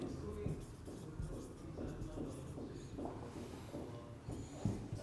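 Writing on a board during a chemistry lecture, with steady scratching strokes running through the whole stretch beneath a lecturer's speaking voice.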